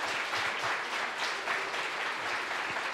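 A church congregation applauds during a morning worship service, a steady wash of many hands clapping at moderate distance, even and unbroken, with no voice over it.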